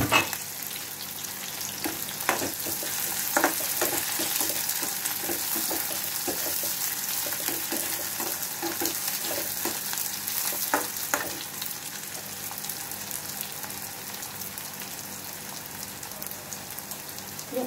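Onions sizzle and crackle steadily in hot oil in a pan while kadhi is made, with occasional stirring scrapes over a continuous hissing spatter, close and without talking.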